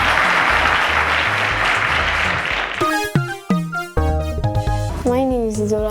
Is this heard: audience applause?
yes